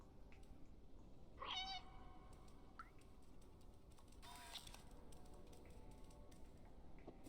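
A cat in the video game Stray gives one clear, rising meow, close and distinct, followed by faint clicks and a soft chirp over a steady low background hum.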